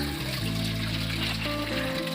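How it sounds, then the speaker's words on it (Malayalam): Water pours steadily onto garden plants of ferns and cacti, a continuous close gushing splash with a faint tonal hum beneath and no voices. "ചെടികൾക്ക് വെള്ളം ഒഴിക്കുന്ന തിരക്കിലാണ്"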